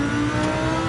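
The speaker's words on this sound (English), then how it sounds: "This is my car, my Lamborghini Huracan." A Lamborghini Huracan engine runs under load in a sim racing setting, a loud steady droning tone with constant volume and no pauses.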